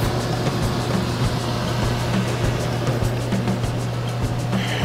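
A running fan with a completely clogged filter in a trashed rental house gives a steady, loud droning whoosh with a low constant hum, unbroken throughout and with no talking.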